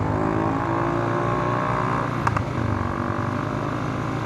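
A Rusi motor tricycle pushing through floodwater on a highway, its engine droning steadily close by with a brief splashing surge partway through.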